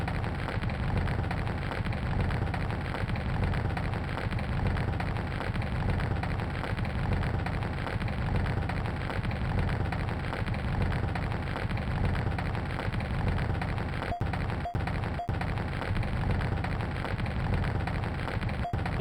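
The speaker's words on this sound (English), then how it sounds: "I rain down godly fire upon you." Fiery spell raining down across the landscape in the god game Populous II: Trials of the Olympian Gods, a steady dense crackling roar like heavy rain with low rumbling, loud and continuous throughout with no talking.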